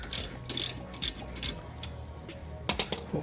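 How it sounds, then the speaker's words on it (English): A ratchet wrench loosens a bolt on a Subaru front brake, making several quick bursts of sharp clicking close by, separated by brief pauses. "let's undo this bolt"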